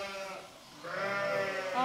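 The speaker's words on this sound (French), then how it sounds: "Ça, c'est la sortie des moutons, des brebis." Ewes bleating as a flock of sheep is let out, during a shearing day on the Causse Méjean in Lozère; several overlapping bleats rise and swell in the second half, close and fairly loud.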